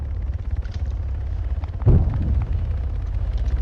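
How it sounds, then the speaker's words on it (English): A missile strikes an aircraft in the Arma 3 combat game, a single deep, heavy blast bursting out midway through a steady low rumble of battle noise and fading into a rolling decay. "One of them spamming flares, which means missiles are being shot at him. Takes a missile hit."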